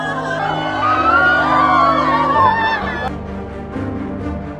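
People screaming and crying out in distress, loud wailing cries with a rising and falling pitch, several voices overlapping, then fading into quieter shouting toward the end.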